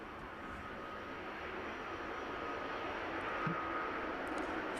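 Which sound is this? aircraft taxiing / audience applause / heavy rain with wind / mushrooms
aircraft taxiing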